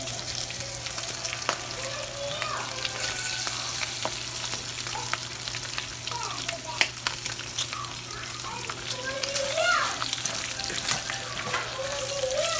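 Bacon sizzles in a frying pan with a constant crackling hiss, joined now and then by small pops and pan scrapes while voices speak faintly in the background.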